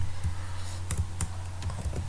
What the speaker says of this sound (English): Now you can start typing here.